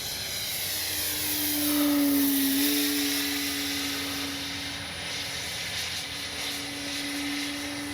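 An E-Flite SNJ-5 Texan RC model warbird drones overhead in flight, its propeller engine tone rising and falling in pitch as it passes and maneuvers, loud and steady with no talk.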